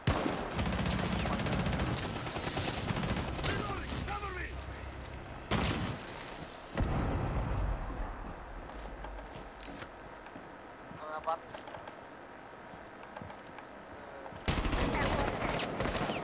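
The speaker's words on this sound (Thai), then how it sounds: "โดนยิงอยู่" Gunfire in the video game Rainbow Six Siege comes in rattling automatic bursts and sharp shots, loud and dense at first, then sparser, with a player talking over the action.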